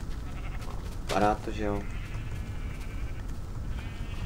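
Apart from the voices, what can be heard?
sheep bleating in Minecraft video game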